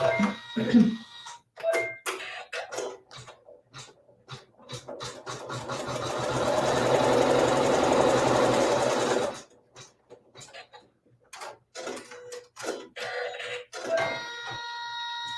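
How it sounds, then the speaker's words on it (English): Sewing machine stitching a fabric seam with neutral-colored thread: a steady, loud mechanical whir runs for several seconds mid-clip, framed by shorter start-stop bursts and handling clicks before and after. "So now using a neutral colored thread, we'll sew our seam."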